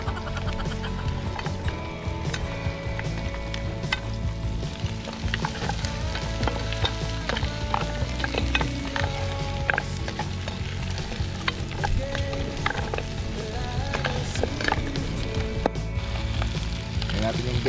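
Boiled pork trotters fry in a pan outdoors, with a steady close sizzle and crackle and scattered pops, continuous throughout and no talk.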